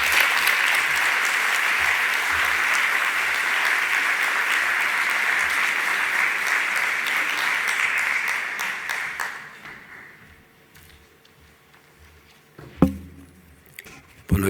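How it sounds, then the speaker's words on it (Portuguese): An auditorium audience gives loud, sustained applause to speaker Mia Couto at a conference opening, dense clapping that holds steady for several seconds and then fades out into a few scattered claps and room noise. "Peço-vos uma entusiástica salva de palmas para o nosso conferencista Mia Couto."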